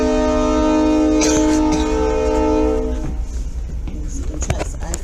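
A train rolls past on icy, snow-covered tracks in a snowstorm, its horn sounding steadily loud and near for a few seconds before giving way to rumbling, clattering wheels as it moves slowly by.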